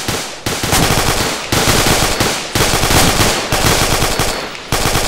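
Rapid bursts of automatic gunfire in a military video game, loud and close, firing in several sustained strings of shots separated by brief pauses, with no talk over it.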